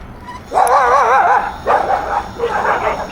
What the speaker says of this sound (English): that is a loud dog. You hear that?